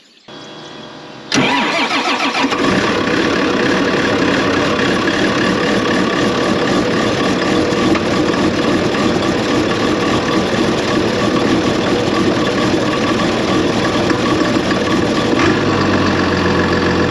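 A farm tractor engine fires up and settles into a loud, steady mid-to-low diesel drone at close range on an early morning, running continuously with no talking.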